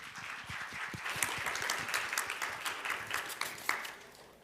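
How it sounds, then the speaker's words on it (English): Audience applause welcoming a speaker to the stage at a ROK-US public-private economic forum, a full round of clapping with crisp individual claps standing out, steady before tapering off at the end. "Please welcome him to the stage with a big round of applause."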